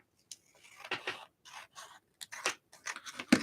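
Scissors cutting paper in a quiet room, a string of crisp close snips and slicing strokes in irregular bursts with short pauses between, no voices.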